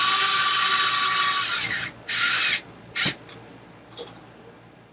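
A power tool spins on bolts of an Arrma Limitless 3s RC car, first in one long whirring burst, then in two shorter bursts and a few brief blips, close and loud, with no talking.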